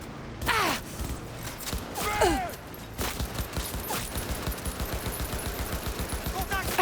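Gunfire in the video game Cyberpunk 2077, with rapid shots and mechanical clatter mixed with whooshing effects, ending in a steady rhythmic stream of fire, with a voice heard briefly.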